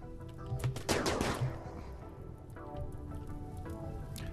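Gunfire in RimWorld, including a pistol shot at a wild boar: a cluster of sharp shots near the start, then scattered lighter pops over a low steady background, fairly quiet overall.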